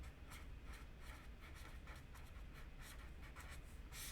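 Pen writing by hand on paper, jotting down a number: quiet, close scratchy strokes in quick irregular bursts, alone with no talking.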